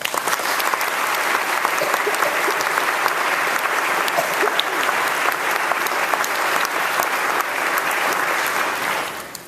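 A commencement audience breaks into dense, sustained applause welcoming the speaker, a steady wash of many hands clapping that fades slightly at the end.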